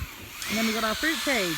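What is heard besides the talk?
drill running in the background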